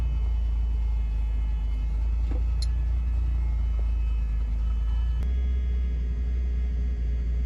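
A 1963 Volvo 122S fitted with a swapped-in Ford 2.3L turbo engine idles while warming up, giving a steady, low, even rumble with no revving, plus a brief faint click partway through.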